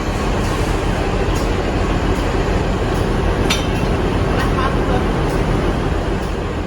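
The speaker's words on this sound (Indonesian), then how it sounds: "saat ini udah tersambung ya untuk kereta api dan lokomotif dari Joglo Semarkerto" Train carriages of the Joglo Semarkerto set being coupled to a locomotive on a Yogyakarta–Kutoarjo rail trip: a steady, loud station rumble with a few sharp metallic clinks partway through, and voices murmuring in the background.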